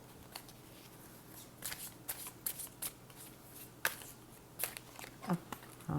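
A deck of playing cards is shuffled and handled up close, giving repeated crisp riffling bursts and flicks in an irregular rhythm against a quiet room, with no talking.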